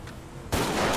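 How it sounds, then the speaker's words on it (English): A single loud shotgun blast in GTA V with a realistic weapon sound mod, sudden and close, erupting midway over a quieter background and ringing out to the end. "Shotgun."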